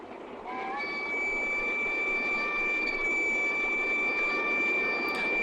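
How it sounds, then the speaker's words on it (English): A train rumbles past steadily and loudly, with sustained tonal whines and horn-like pitches layered over a broad continuous roar, in a Frankenstein film. "I love the sound of trains."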